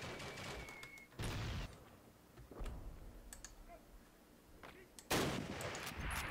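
Gunfire in Call of Duty, with a burst at the start, a loud shot near 1.2 s and another heavy blast near 5 s, spaced by quieter shots and clicks from keyboard or mouse.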